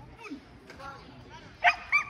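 Small dogs yip twice near the end while being walked in a town square in Santurtzi, faint outdoor murmur and distant voices underneath, the barks brief and moderately close.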